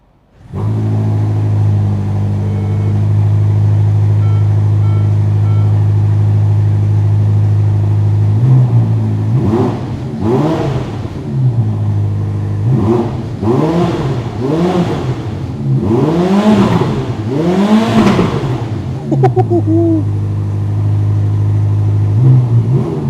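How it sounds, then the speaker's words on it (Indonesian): A 2021 Ferrari SF90 Stradale's turbocharged engine idles with a steady low drone, then is blipped in a series of sharp revs that rise and fall in quick succession, loud and close, with no voices. "sekarang kita coba bagaimana suaranya kalau kita gas"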